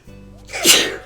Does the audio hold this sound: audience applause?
no